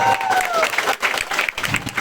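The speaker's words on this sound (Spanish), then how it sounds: "Que siga ese aplauso, por favor. Más fuerte." Audience applause and crowd noise at a gathering, loud and dense, continuing briefly with a sustained clatter of clapping and some voices mixed in.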